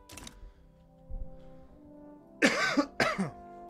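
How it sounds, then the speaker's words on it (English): A man's tickly cough: a soft cough near the start, a faint one in the middle, then two loud, harsh coughs close to the microphone over a quiet hum. "Got a little bit of a tickly cough."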